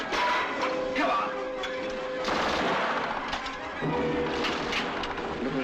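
Battle gunfire from a 1944 war film: dense, loud bursts of rifle and machine-gun fire crackle continuously for several seconds, with a few shouted voices mixed into the din.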